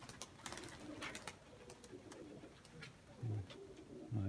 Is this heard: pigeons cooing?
yes